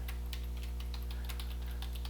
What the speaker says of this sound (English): So now I can just type in with my keyboard